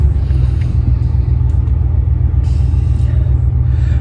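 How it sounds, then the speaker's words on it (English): A practically new Dodge Ram 1500 pickup truck four-wheeling off-road, with a loud, steady low engine and drivetrain rumble heard from inside the cab, continuous and without talk. "Never had y'all four-wheeling in my totally awesome, practically new Dodge Ram 1500 pickup truck, so let's go now."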